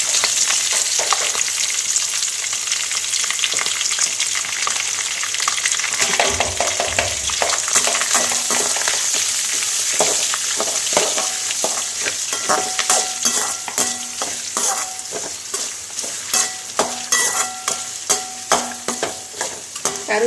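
Onions, green chillies and curry leaves fry in a pan for a spicy string-hopper dish, with a dense sizzle under repeated close scraping and clinking stirs that grow sharper and more distinct toward the end.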